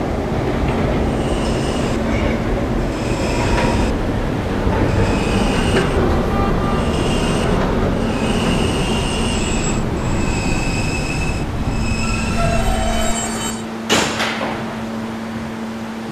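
A New York B subway train runs loudly and continuously, with rumbling wheels, rhythmic clicks over rail joints, and high squealing tones from the wheels and brakes. Near the end the noise drops away and a sharp burst cuts through.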